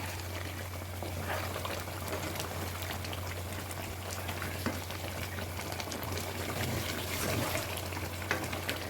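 Masala is stirred into chicken white biryani in a pot, giving a continuous soft bubbling and sizzling texture with faint scraping from the stirring.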